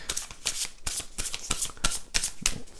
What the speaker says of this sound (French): on va poser la carte ici de l'action